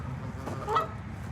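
A goose gives a single short, nasal honk up close, rising briefly over a low background rumble.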